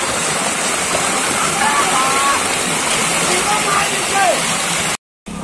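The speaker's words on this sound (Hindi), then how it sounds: "पानी रोड में ऐसा बाहर आ रहा है" Floodwater gushes and roars continuously out onto a road, a loud, steady rushing flow with faint voices underneath, cutting off abruptly near the end.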